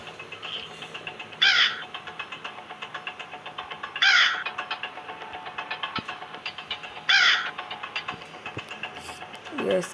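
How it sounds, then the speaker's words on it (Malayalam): A crow caws in the Granny video game, sounding three loud, harsh calls spaced a few seconds apart over a faint, steady background hum. "കാക്ക നമ്മളെ കുത്തിക്കൊല്ലുന്നാണ് പറഞ്ഞത്"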